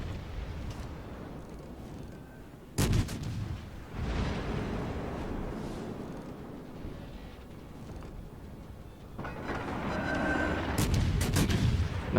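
Warship naval guns in World of Warships Legends boom in heavy, rumbling salvos, a couple of sharp loud blasts followed by rolling explosive roar and distant thuds under a constant low wash of battle noise.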